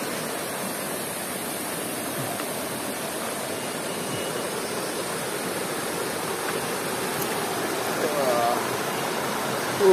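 A river stream flows through a national park forest in Lampung, its water making a steady, dense rushing wash that holds even and close throughout.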